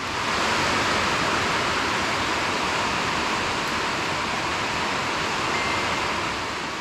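10W30 motor oil pours steadily into the dipstick hole of a Champion 34-ton woodsplitter, a continuous, even broadband rush like running water that holds near and loud for the whole stretch, with no talking.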